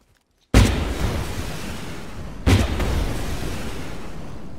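Two loud, broadband gunshot blasts in DayZ, a squad's sniper-style shots fired a couple of seconds apart, each followed by a long echoing decay with no talk.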